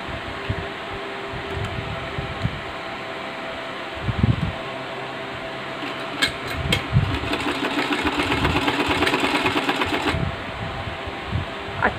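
A sewing machine hums steadily while stitching a second line of sewing around a kurti neckline, with a mechanical drone and occasional soft thumps and rustles of fabric handling.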